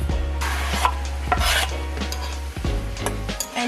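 Freshly minced garlic cooking in a pan with vegetables, giving a steady close sizzle broken by repeated scraping strokes of a spatula and a few light utensil clinks.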